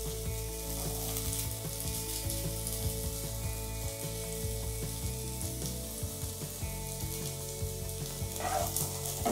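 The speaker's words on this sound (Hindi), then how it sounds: "ये देखिए थोड़ा हम इसे फ्राई होने देते हैं।" Gatte, gram-flour dumplings for a curry, fry steadily in hot oil in a pan, a dense continuous sizzle with occasional stirring scrapes throughout, close and even in level, with no talking.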